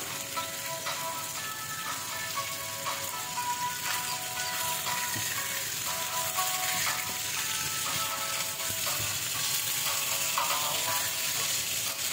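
Chopped onion and garlic sizzle steadily in a pot, a continuous bright frying hiss with small crackles and the occasional scrape of stirring, close and even throughout with no talking.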